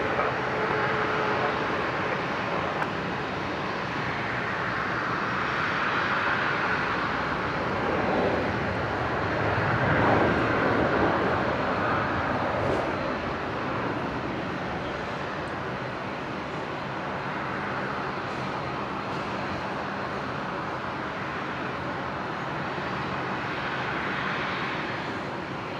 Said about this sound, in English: Here we go, next arrival, Jetstar 758 coming in from Hobart.